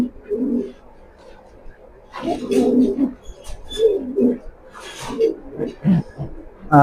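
A pair of racing pigeons coo while held in hand, giving soft, low, repeated burbling calls in short bursts close by.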